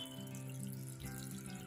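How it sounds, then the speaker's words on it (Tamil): Water trickles and splashes softly as it is poured onto home garden plants, including wheat, a faint steady flow heard close by with no talking. "செடிக்கு தண்ணி ஊற்ற போகிறேன்."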